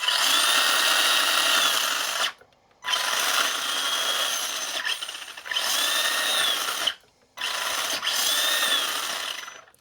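A Kyosho AXXE 2.0 RC car's 22-turn brushed motor whines at full throttle in four long bursts separated by short pauses, loud and close, with no talking.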